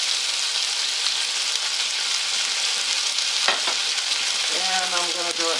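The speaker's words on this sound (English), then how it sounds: "at this point, I'm going to go ahead and throw that in. Get my onions going too." Onions sizzling on a hot griddle for steak fajitas, a loud dense steady hiss filling the whole span, with a brief scrape near the end and no talk.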